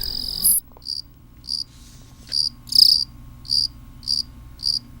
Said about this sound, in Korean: 배짱이는 한 번에 길게 우는 습성이 있다.